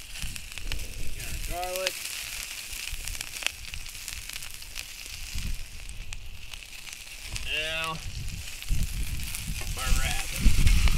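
Onions, garlic and rabbit meat crackle, sizzle and pop steadily in a hot frying pan, with someone talking over the cooking now and then.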